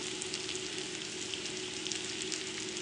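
Vegetables and shrimps, with garlic and broccoli, fry in a hot pan, giving a loud, steady, close sizzle that holds without a break and without any voices.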